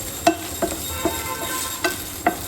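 Potato pieces being stirred in a frying pan while preparing katla fish curry, giving several sharp scraping clacks spaced irregularly over a soft background sizzle, close and without talk.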